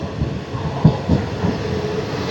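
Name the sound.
train running on the rails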